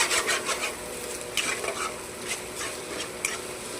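A spatula stirs egg bhurji around a pan in brisk, repeated scraping strokes over a light sizzle, close and fairly loud, with no talking.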